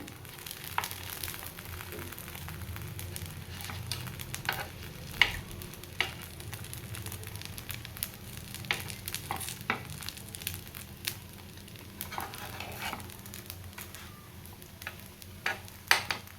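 Puffed food fries gently in a pan over a low gas flame, giving a soft, continuous sizzle broken by light scraping and stirring clicks throughout.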